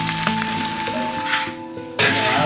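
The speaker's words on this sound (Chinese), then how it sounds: "这煎这个茄子，这必须得多放油" Eggplant slices sizzle steadily in generous oil in a wok over low heat, a close continuous frying hiss that swells louder for the final half second.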